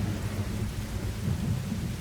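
Steady rain with a deep, continuous thunder rumble, heard alone as an outdoor storm in the video game Rain Code.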